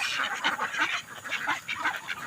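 A flock of ducks on a duck farm quacking and honking continuously, several birds calling over one another in an irregular, fairly close chorus.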